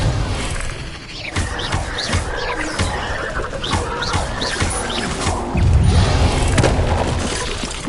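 Dense, continuous video game combat in Hogwarts Legacy: spell impacts, booms and crashing blasts overlap in a loud, busy wash of effects with no pauses.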